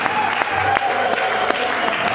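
Church congregation at Hébron church in Creil applauding and cheering together, a steady dense wash of clapping with sharp accents and crowd noise, loud and close throughout.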